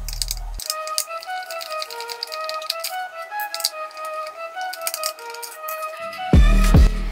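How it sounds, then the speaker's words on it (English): Bolts being unscrewed from a Segway Ninebot F2 Pro electric scooter during controller replacement, a close rapid ratcheting clatter of a tool running steadily, ending in a louder knock. "Next step is to unscrew two bolts here."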